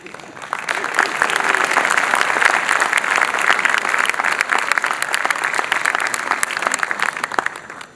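An audience at a kavi sammelan applauds to welcome a poet, a steady wash of many hands clapping that builds quickly and holds at an even, moderately loud level throughout.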